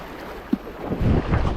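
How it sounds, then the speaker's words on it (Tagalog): Wind gusts buffet the microphone out on the water while fishing from a small boat, low rumbling blasts rising and falling, with a brief knock partway through. "Mahangin, medyo mahangin."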